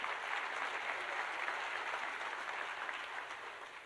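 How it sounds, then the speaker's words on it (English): A crowd at a school district celebration event applauds steadily and moderately loudly, a dense, continuous wash of clapping that fades slightly near the end. "I want to give a round of applause to that."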